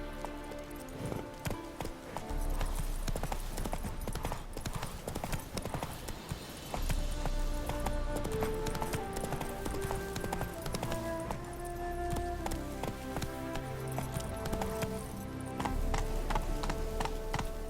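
Roach the horse gallops in The Witcher III with quick, rhythmic hoofbeats that carry on without pause, layered over game music.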